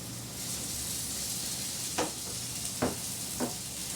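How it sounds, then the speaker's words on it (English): Sweet potatoes frying in a pan at home, a soft steady sizzle and hiss throughout with three brief louder crackling spurts near the end, close and fairly quiet, no talking. "There go that sizzle."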